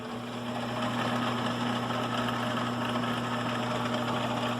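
A Shopsmith 10ER woodworking machine with a 1/2 hp General Electric motor running up to speed, giving a steady, close electric hum with mechanical rattle and vibration, loud and unbroken.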